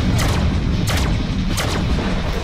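Heavy gunfire from a gun in the Deadpool video game, with three booming blasts in steady succession over a dense, constant roar of game noise.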